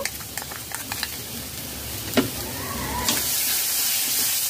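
Cashew and black mustard paste being stirred into prawn malaikari frying in a pan: a steady close sizzle with scraping stir strokes and a brief clack, the frying growing brighter and louder partway through.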